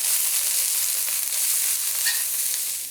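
Steady, bright sizzling of cabbage stir-frying in a hot pan, a constant crackling hiss with no talking.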